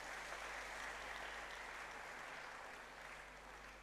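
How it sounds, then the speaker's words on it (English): An audience at a university inaugural lecture in Ghana claps in steady, dense applause throughout, heard faintly from a distance with no speech over it. "Let's give them another round of applause."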